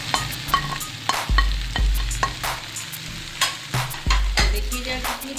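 Mixed vegetables with tomato and capsicum sizzle steadily in a pan, with repeated close scrapes and knocks of a spoon stirring them.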